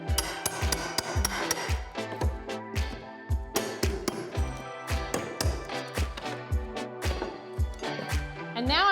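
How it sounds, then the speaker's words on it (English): A hammer drives a pry bar under a carpet tack strip on stairs, giving a run of sharp, ringing metallic blows in an irregular rhythm, close and loud, with scraping between strikes. "to remove this strip, we just need a pry bar and a hammer"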